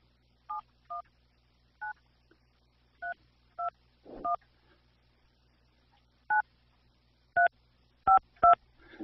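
Touch-tone telephone keypad dialing a number, about a dozen crisp dual-tone beeps at an irregular pace, some in quick pairs, clear and close against near silence.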